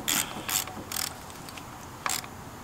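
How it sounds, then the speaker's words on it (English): A socket ratchet clicks in four short bursts while tightening a spark plug during an ignition coil and plug replacement on a misfiring engine, close and fairly quiet with no talk. "Socket and a ratchet."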